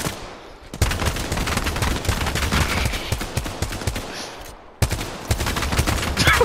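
Rapid automatic gunfire shoots up boxes in an online shooter game, sustained bursts with a brief pause before firing resumes loud and close.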